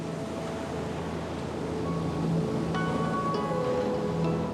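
Turbulent Mekong River water near the Khone Phapheng falls in southern Laos, a loud, steady broadband rush with a few faint tonal sounds laid over it and no talking.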